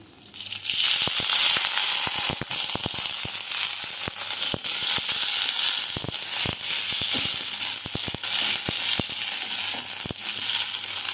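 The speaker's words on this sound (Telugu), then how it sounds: "కొంచెం పచ్చిమిర్చి వేయించి పక్కన పెట్టుకుందాము" Crackling, spitting oil as green chillies fry in a pan, a dense sizzle with frequent sharp pops, steady and close, no voices.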